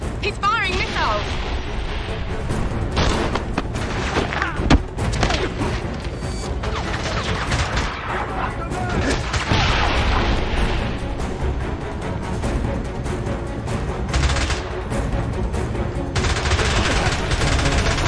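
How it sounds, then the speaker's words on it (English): Missiles and gunfire in the James Bond 007 Blood Stone game: continuous bursts of rapid shots, crashes and booming explosions over a driving soundtrack, with voices speaking at times. "James, he's firing missiles."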